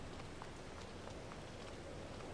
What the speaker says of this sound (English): So it's raining, and I wanted to quickly show you the puddles that form when it rains.